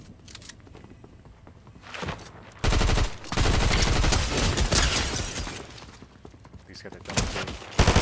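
Submachine gun fire in a video game, with loud rapid bursts and sustained automatic firing mixed with explosive impacts, while players talk over the action.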